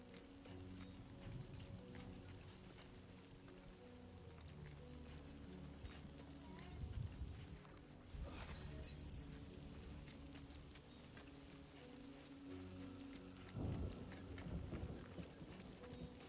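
Steady rain falling in the video game Death Stranding 2, a dense continuous hiss throughout with a couple of brief louder splashy swells, no speech heard.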